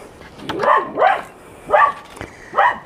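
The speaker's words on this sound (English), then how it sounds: "That's the neighbour's dog barking" A dog barks four times in an uneven rhythm, sharp yappy barks at moderate distance with short pauses between them.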